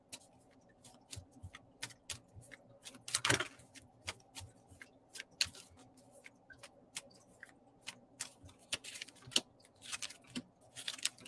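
Tarot cards are shuffled by hand in a quiet room, giving faint, sharp irregular clicks and riffling snaps scattered throughout, with no talking.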